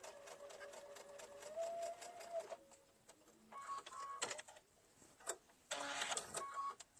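A domestic sewing machine stitches a pumpkin bag seam in short bursts of fast mechanical whirring, stopping and restarting with brief pauses and small clicks between runs, close and fairly quiet with no talking.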